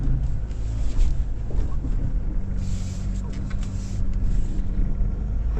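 Kia Tasman X-Pro ute crawling off road at an angle, a steady low engine and drivetrain rumble with tyres briefly scrabbling for grip, wind buffeting the mic, and a voice talking over it.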